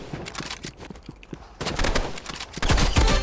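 Rapid bursts of automatic gunfire and single shots crackle through a first-person shooter match in Rivals, dense and loud, with overlapping volleys that intensify toward the end.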